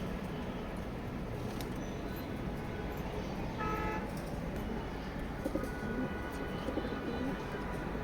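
A big male racing pigeon coos faintly under a steady, loud background hum, with brief tonal calls rising out of the noise now and then.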